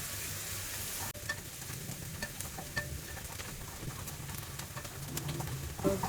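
Shallots are stir-fried in a wok for char kway teow, giving a continuous soft sizzle with scattered scraping clicks from the spatula after a sudden start; a cooing pigeon sounds faintly in the background.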